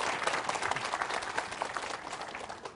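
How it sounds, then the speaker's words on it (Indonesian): Studio audience applauding on an Indonesian Islamic religious television programme, a full, even wash of many hands clapping together, moderately loud and sustained throughout with no speech over it. "Tepuk tangan."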